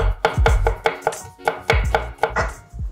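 Garlic cloves chopped with a knife on a board, a run of rapid, crisp, close thuds in uneven bursts, loud and alone without talk.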